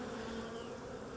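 Honey bees swarm around an open beehive with frames of pollen and honey being inspected, their dense, steady buzzing drone filling the space close up without a break.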